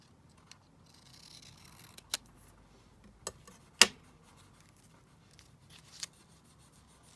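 Scissors cutting paper for a junk journal: a few sharp, isolated snips and clicks spaced over several seconds, close and quiet, with soft rustling between.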